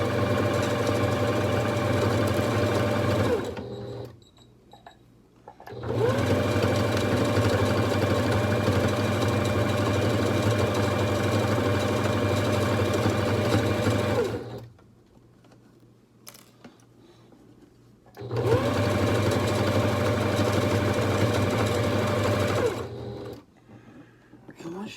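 A domestic sewing machine runs a straight stitch on doll bedding fabric. It makes three long bursts of steady, close motor whir and needle clatter, separated by short quiet pauses.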